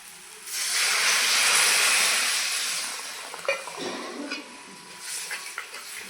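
Water poured onto a sizzling fried spice masala bursts into a loud, close steam hiss that swells for a couple of seconds, then fades into softer crackling with a few light metallic clinks.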